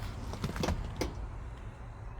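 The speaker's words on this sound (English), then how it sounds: "This little button pushes the seat forward." A brief whir of a small electric seat motor up close in a 1967 Buick Riviera, with a few soft mechanical clicks and thumps, no voices.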